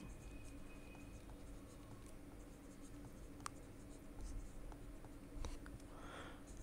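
Handwriting with a pen on paper while working a maths problem, faint soft scratching strokes with a few small taps, quiet and close, with no talking.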